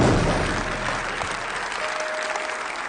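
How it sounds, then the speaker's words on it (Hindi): An audience at a devotional program in Chandigarh bursts into loud, sustained applause, a close, continuous wash of many hands clapping that slowly eases off. "तुम भी तालियां बजाओ जोरदार।"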